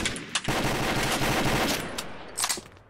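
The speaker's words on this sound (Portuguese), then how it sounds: "Da onde você tomou essa rajada?" Sustained gunfire in the online shooter Combat Arms, a dense rapid burst running almost three seconds with a few sharper shots at the start and near the end, loud and close, with no talking over it.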